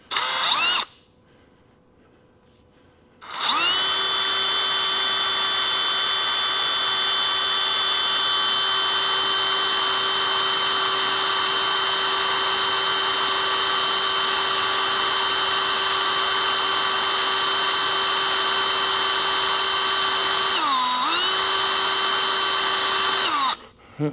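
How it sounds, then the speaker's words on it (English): A power drill with carbide bits bores into a metal hydraulic motor adapter, starting after a short pause and then whining steadily at an even pitch for about twenty seconds, with a brief dip in speed near the end, loud and close. "I've got some carbide bits I'm able to get through there"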